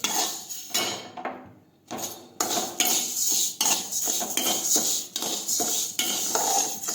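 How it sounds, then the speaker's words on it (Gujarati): Fenugreek, coriander, cumin and mustard seeds dry-roasting in a pan, with a steady dry rattle and repeated scraping clinks of a spoon against metal, loud and close, with no talk. "મેથી, ધાણા, જીરું અને રાઈ અને આપણે શેકી લઈશું"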